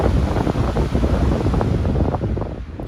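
A 20-inch AAIN high velocity fan winding down, a steady broadband whoosh of rushing air that holds fairly constant and loud throughout, with faint rumbling low flutter and a slight easing toward the end.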